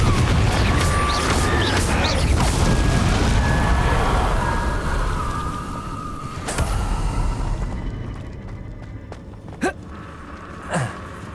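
Confringo and Bombarda spell blasts in Hogwarts Legacy, loud booming bursts layered over a dense rumbling battle din, easing off toward the end with a few sharp cracks.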